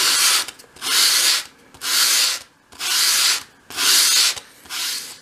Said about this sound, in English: with your sandpaper flat on your work surface, hold the piece against it at a 45 degree angle and sweep it towards you